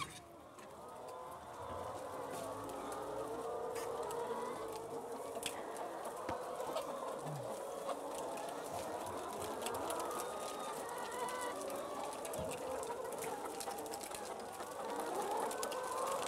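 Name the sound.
hens clucking in a poultry barn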